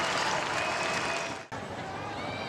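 Home crowd at an AFLW women's Australian football match between Adelaide Crows and Fremantle Dockers cheering and applauding loudly and steadily, with a brief dip midway before the roar resumes.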